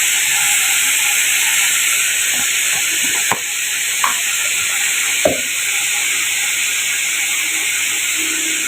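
Food fries lightly in a pan for a shrimp and taro stolon dish, a loud steady hiss of sizzling oil with a few sharp spatula knocks and scrapes midway.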